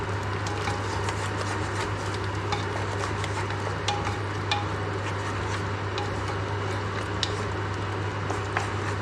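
Yogurt being stirred into biryani masala for Palakkadan Rawther biryani, a soft continuous squishing and scraping in the pan over a low steady hum, with no voices.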